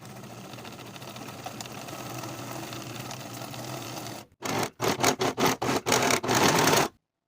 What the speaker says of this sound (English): Sew the bottom edge of the pocket with a 5/8 inch seam allowance and finish the raw edges.